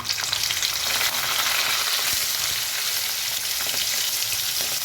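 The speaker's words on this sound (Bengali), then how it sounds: "এবার আমার চিংড়ি মাছটা দিয়ে দেব" Prawns frying in hot oil with black cumin seed in a pan, a loud, dense sizzle with crackling spatter and a few stirring knocks throughout, no talking.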